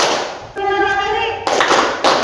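A classroom of children clap together in rhythm. A sharp, loud group clap follows a spoken count, then another bunch of claps comes right after.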